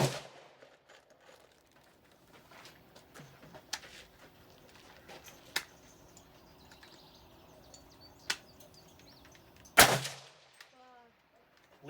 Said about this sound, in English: So whenever you squeeze that trigger, it's gonna shoot.